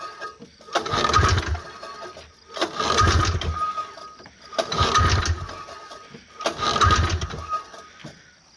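A Bombardier Everest 503 snowmobile engine cranks over in four evenly spaced bursts of a couple of seconds each, with brief quiet gaps between them as the cylinder compression test goes on; no one talks.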